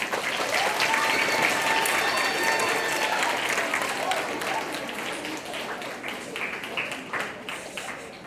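An audience claps steadily for fifth grade students at a small school graduation ceremony, a dense, sustained round of applause that fades slightly toward the end.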